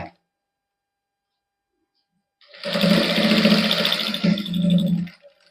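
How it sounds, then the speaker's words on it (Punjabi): A sewing machine stitches the neckline of a matching salwar suit trimmed with fine lace, whirring loudly and close for about two and a half seconds after a short silence, with a brief dip before it speeds on and stops. "ਇੱਥੋਂ ਮੋੜ ਕੇ ਫੇਰ ਸਲਾਈ ਲਾ ਦਿਓ ਤੁਸੀਂ"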